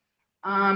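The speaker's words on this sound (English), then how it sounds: "that's my dog snoring" A pug dog gives a single snoring snort that starts abruptly partway through and holds as a loud, close, honking rasp with no talk around it.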